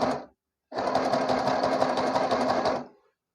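Sewing machine running a zigzag stitch to finish a fabric edge: a brief burst, a short pause, then a steady rapid mechanical chatter for about two seconds before stopping, close and clear.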